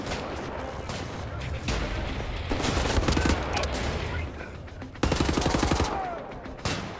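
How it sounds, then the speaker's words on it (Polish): Gunfire in the shooter Wolfenstein: The New Order: loud, repeated bursts of automatic weapon fire and heavy shots in rapid rattling volleys, nearly continuous across the scene. "Czy ktoś dalej do mnie strzela?"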